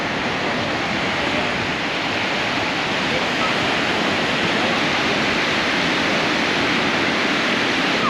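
Continuous broadband roar of surf and moving water at a turquoise beach on Mexico's Riviera Maya, loud and close, steady throughout with no distinct voices.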